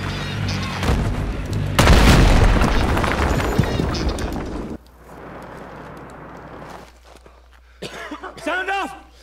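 Loud, booming explosion of a T-90 tank in the video game Battlefield 3, a heavy broadband blast around two seconds in with a long rumbling tail, followed by quieter battle noise and a voice shouting near the end.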